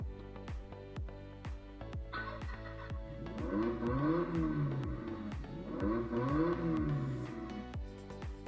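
A ride-on Lamborghini concept toy car switches on after its start button is pressed, and steady rhythmic ticks pulse throughout while a simulated engine revs twice with rising and falling tones, fairly faint.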